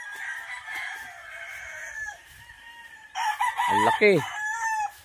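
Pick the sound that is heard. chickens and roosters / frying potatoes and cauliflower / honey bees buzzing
chickens and roosters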